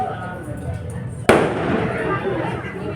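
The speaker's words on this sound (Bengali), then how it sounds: "এদিকে দেখো বাজি ফোটানো শুরু হয়ে গেছিল।" A single sharp firecracker blast cracks loudly nearby during a Shivratri night outing, followed by a noisy decaying rumble and crowd murmur, with a voice talking before it.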